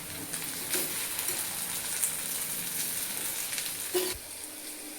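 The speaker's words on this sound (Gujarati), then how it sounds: "મરચું અને ધાણા જીરું હવે મિક્સ કરી દઈશું" Okra sizzles steadily in a pan after chili and coriander-cumin powder are mixed in, a continuous close frying hiss with a couple of brief stirring scrapes and no talk.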